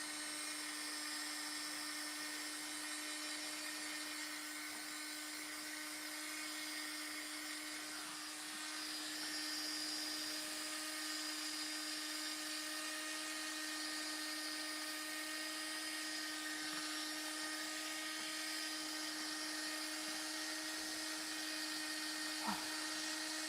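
Heat gun blowing hot air onto a small craft piece from a customization kit, a steady droning whine with a constant pitch, held without a break for over twenty seconds.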